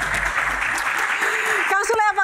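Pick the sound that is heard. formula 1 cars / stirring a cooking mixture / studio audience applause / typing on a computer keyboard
studio audience applause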